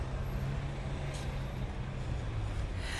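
Buses in traffic along the Paseo Maritimo in Mallorca, heard as a low, steady engine drone from a distance, with a short hiss like an air brake midway and a constant background of street noise.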